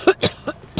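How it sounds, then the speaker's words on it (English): A short coughing fit: four quick, close coughs in an uneven burst, each sharp and throaty. "Sorry, coughing fit."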